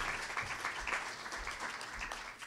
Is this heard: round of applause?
yes